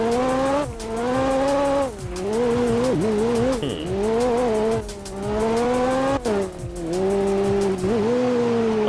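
A JDM car in a Roblox racing game skidding and spinning out, engine revving high and dipping while tires squeal in repeated long skids, loud and close with no talk.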